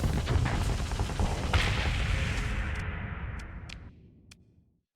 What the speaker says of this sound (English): the machine guns are just so, like, they don't seem like much until you start seeing the damage stacking up